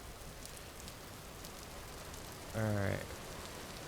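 Steady soft rain patters throughout in a survival crafting video game, a faint continuous wash with a brief short voice interjection near the end.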